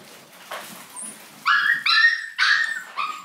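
A young puppy, about eight months old and stuck behind something, gives faint whimpers and then a run of loud, high yips and barks in quick bursts, close by with no talk.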